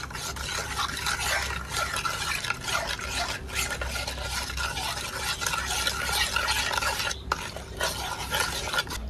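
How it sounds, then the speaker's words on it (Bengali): Chocolate ice cream mixture with cocoa powder being stirred steadily in a pot before cooking, a continuous scraping swirl with no pauses, close and moderately loud throughout. "এবার সবকিছু চুলায় দেওয়ার আগে খুব ভালো করে মিশিয়ে নিব"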